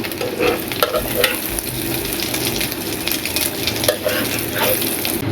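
Eggs frying in a pan give a steady, close sizzle with scraping stir sounds and occasional light clinks.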